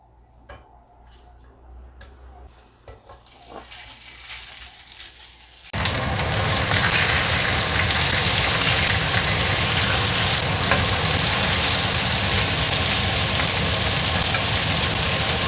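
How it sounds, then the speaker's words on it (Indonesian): Pork grills in an oily pan with a loud, continuous sizzle that suddenly starts after a few seconds of quieter handling and clinks, then stays steady and close. "Aku mau manggang babi."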